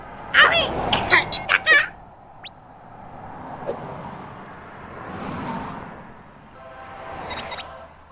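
A cartoon boy coughs in a quick burst of several close, loud coughs near the start, followed by quieter mixed cartoon sounds and faint background noise.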